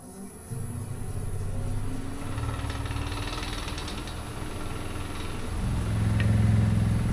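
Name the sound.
woodturning lathe running at 900 RPM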